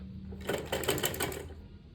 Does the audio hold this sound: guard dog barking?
no